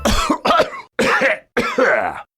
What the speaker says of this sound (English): I just coughed up a button